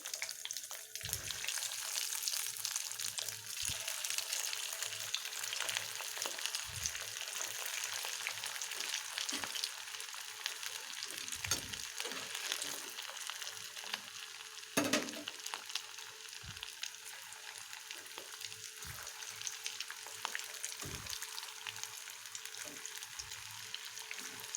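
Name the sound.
cutlet balls frying in oil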